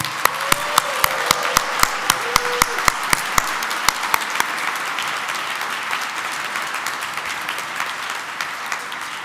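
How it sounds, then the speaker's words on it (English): Applause at a city inauguration ceremony, with a few loud nearby hand claps in an irregular rhythm over a broader wash of crowd clapping that gradually thins out. "can we please give a round of applause to the family members of all our elected officials tonight?"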